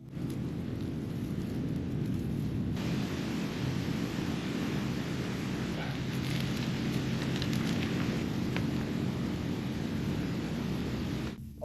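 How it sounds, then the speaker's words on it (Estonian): A campfire burns on a deserted island at sunset, giving a steady, dense crackling roar mixed with wind noise that carries on without a break and without voices. "Me läheme nüüd puisastesse, teeme lõkke ülesse, kogume hulga puid."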